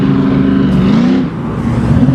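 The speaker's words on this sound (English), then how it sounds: "That's a 59 Chevy, 2-door Impala, black with white." A black-and-white 1959 Chevy two-door Impala rolls by at a street car show, its engine a loud, steady low rumble close at hand that eases slightly partway through.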